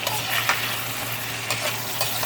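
A pan of seasoned vegetables sizzles loudly and continuously, close up, with a few short stirring scrapes cutting through the steady frying hiss.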